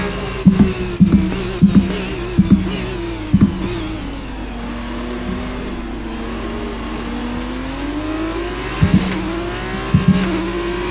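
An F2 race car engine screams through Monza in the F1 23 game, with sharp upshift stabs early, a long sustained high-revving pull, then more gear changes near the end.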